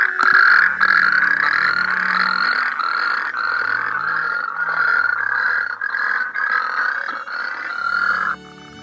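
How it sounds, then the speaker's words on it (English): Natterjack toads calling in Cumbria, a loud, continuous rasping trill with brief breaks, close by and alone, with a faint low hum underneath. "Neil begins to play a recording of a Natterjack call in order to locate the presence of any toads"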